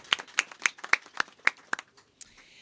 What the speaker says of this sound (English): a round of applause for all the healthcare workers and everything that you do